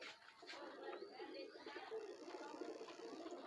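Soft, low pigeon cooing from a high flyer pigeon, a steady murmur of repeated coos held close under faint background noise throughout.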